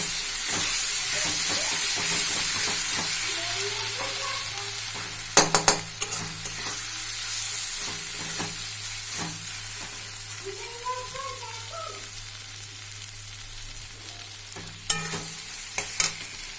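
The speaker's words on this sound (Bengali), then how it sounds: "আজকে আমি নতুনভাবে করলাম বেগুনটা ভেজে নিয়ে" Brinjal frying in oil in a pan, a loud, persistent sizzle with stirring scrapes and a few sharp metallic knocks, steady throughout with a low steady hum beneath.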